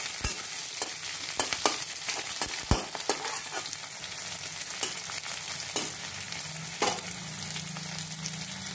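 Something frying in a pan for a potato and bari dish, a continuous close sizzle punctuated by repeated sharp clicks and scrapes of a spatula stirring, irregular in rhythm, with a faint low hum and no talk.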